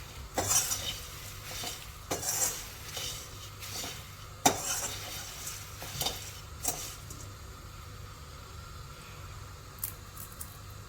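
Puffed rice (mamra) stirred and tempered in Gulab groundnut oil with curry leaves and raw peanuts, giving repeated scraping stirs and metal clinks over a low, steady sizzle; no one speaks.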